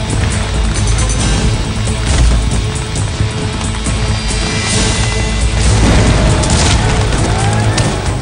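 Cannon and gunfire barrage in a Gettysburg battle reenactment, set during the charge toward Cemetery Ridge, forms a dense, continuous roar of booms and blasts that stays loud and unbroken throughout, with no voices.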